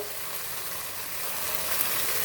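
Cut potatoes fry in hot oil in a pan, giving a steady, even sizzling hiss at moderate level with no talk.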